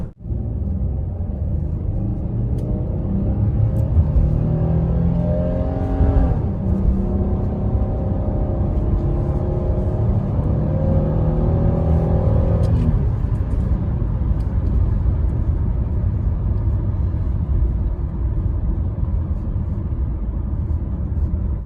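A naturally aspirated 2015 Ford Explorer Limited with a 3.5 V6 and 4WD accelerates hard from inside the cabin, its engine drone climbing through two rising sweeps with a shift between them, then settling into loud road rumble.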